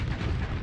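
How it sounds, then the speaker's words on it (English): A Star Fortress blowing apart in the space combat game Starsector, heard as a sustained, dense low rumble of explosion that stays loud and steady throughout, with no voices. "And there goes the Star Fortress."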